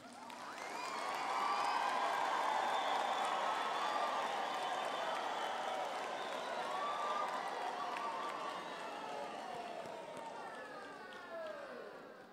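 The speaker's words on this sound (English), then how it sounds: "Let us once again give our graduates a round of applause," Audience applause with cheering at a Faculty of Education graduation ceremony, a broad wash of clapping in a large hall that swells, holds and gradually fades, with faint whoops mixed in.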